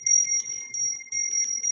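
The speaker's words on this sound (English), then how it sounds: "or it's a tiny little brass bell" A tiny brass bell rings with a sustained, pure tone, struck repeatedly in light taps that keep the shimmer going, close and clear in a quiet room.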